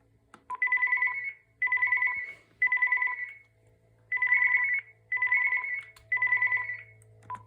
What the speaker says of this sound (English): let's just check the intercom